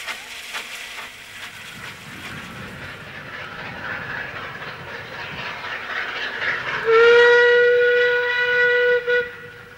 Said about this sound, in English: the Festiniog Narrow Gauge Railway